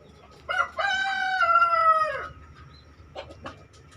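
A rooster crows once loudly and close by in a long, drawn-out call as free-range chickens are let out, followed by a few short clucks.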